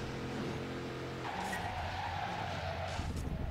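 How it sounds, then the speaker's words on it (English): Muscle car tires skid and slide in the Midnight Club 3 DUB Edition Remix racing game, a steady engine drone with a rising tire squeal that holds for several seconds, loud and continuous with no talking. "the car just keeps on sliding"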